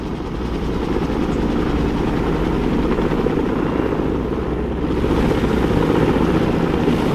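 A Viper attack helicopter in the Broken Arrow video game flies overhead: a loud, continuous rotor drone and whine that holds steady throughout, with a slight surge near the end and no talking.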